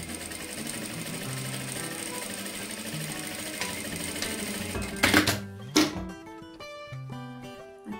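A sewing machine runs steadily while stitching a clutch bag, a continuous mechanical whir with fast needle rhythm that stops abruptly near the end, followed by a few short clicks and handling noises.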